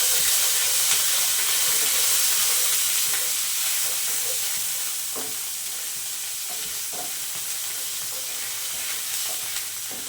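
Ginger hitting hot oil in a pan, a little salt already added, for mung dal khasta kachori: a loud, steady sizzle with a bright hiss that eases slightly after a few seconds, with faint scrapes of stirring.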